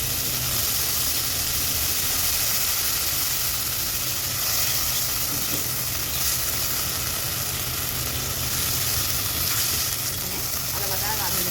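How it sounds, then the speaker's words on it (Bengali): Ginger paste and radhuni seeds fry in a pan with a loud, continuous sizzle and crackle that holds steady throughout, close and dense, with no voices over it. "আদা বাটা আর রাঁধুনিটা বেশ ভালো করে ভাজা ভাজা হয়ে গেছে"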